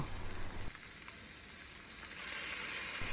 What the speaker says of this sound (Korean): 가지가 어느 정도 투명해지면 만들어 놓은 양념장을 넣고 볶아주세요